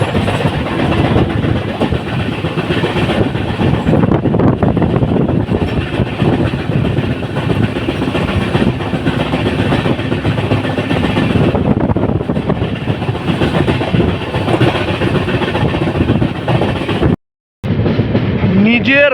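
An Intercity Express between New Jalpaiguri and Guwahati, hauled by a WAP-7 electric locomotive, rolls past close and loud, its wheels clattering over rail joints in a continuous rumble with a brief dropout near the end.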